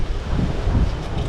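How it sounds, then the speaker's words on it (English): Strong headwind buffeting a microphone at a dock, a continuous close roaring rumble with no pauses or talk. "We got a real strong headwind in my face"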